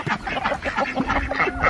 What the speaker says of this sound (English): These ducks don't seem that interested in it.